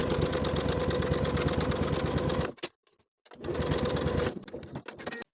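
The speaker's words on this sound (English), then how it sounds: "Now I'm going to sew through all layers from dot to dot," Close, loud sewing machine stitching through all layers of an unlined jacket's zipper pocket facing, a steady rapid whirring run that stops briefly, restarts, then slows to a halt.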